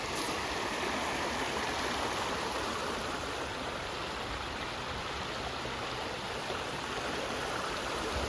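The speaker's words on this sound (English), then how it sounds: "And then here is the Furnace Brook." Furnace Brook flowing past a rural waterfront property in Shaftsbury, Vermont, a steady, broadband rushing of water that stays constant and fairly close, with no talk.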